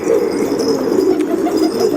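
A pet pigeon in Iskenderun coos up close, a loud, low, throaty rolling call that pulses steadily and continuously, with faint higher background sounds but no voices.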